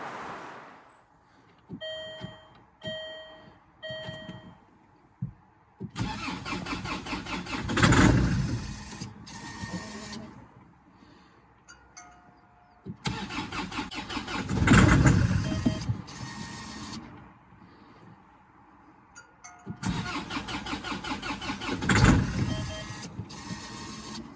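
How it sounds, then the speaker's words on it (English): A Freelander diesel engine cranking repeatedly without starting, after a few dashboard chimes, with three long loud cranking bursts, each churning for several seconds then stopping, separated by quiet pauses. "it was just cranking and not sort of getting going properly"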